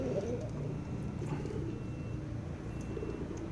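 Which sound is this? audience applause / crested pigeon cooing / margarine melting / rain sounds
crested pigeon cooing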